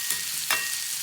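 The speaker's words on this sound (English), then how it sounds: "And now I'm going to add the chopped beef into the frying pan." Chopped beef sizzles steadily in a hot frying pan, a bright crackling hiss with a couple of brief stirring scrapes.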